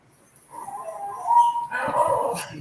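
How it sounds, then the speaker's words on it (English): A dog whimpers in rising, whining tones, then gives a couple of sharper yips or barks, fairly close and clear, with little else around it. "if you hear a dog screaming back there, it's a customer dog."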